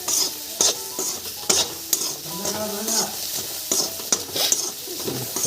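Onions are fried in a pan with a steady sizzle while a utensil stirs and scrapes them. Sharp clinks and scrapes recur every second or so, close and fairly loud.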